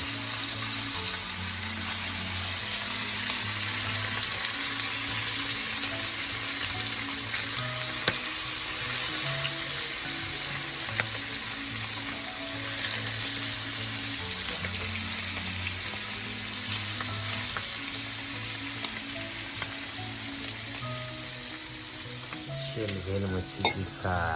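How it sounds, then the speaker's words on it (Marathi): Spices, salt and turmeric fry for a Koli-style clam curry, probably over a wood-fired stove, giving a steady close sizzle and crackle with occasional stirring scrapes and a low background hum throughout. "फ्रायला सुरुवात मस्त सुरसुरीत आवाज"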